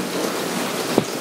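Steady rain falls in a broad even hiss around a garden koi pond, with one brief louder knock near the end; no voices.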